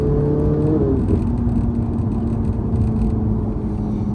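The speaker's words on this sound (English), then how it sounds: "So the earlier cars are a lot louder. So really got the sweet spot in terms of exhaust note." A Ferrari 458 Italia V8 engine drones steadily up close, a deep rumbling exhaust note holding a constant pitch with a slight shift early on, loud and continuous.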